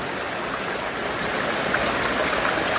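Floodwater pouring into a house, a steady, loud rushing flow like a strong stream, continuous throughout without pauses.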